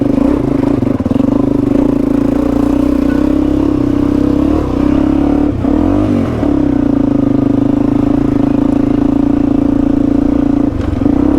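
Suzuki DRZ400E dual-sport motorcycle climbing a long, steep hill, its engine droning loud and steady with a few brief revving surges, no talk over it.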